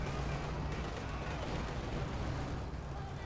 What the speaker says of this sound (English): Panzerwerfer shot, firing against KV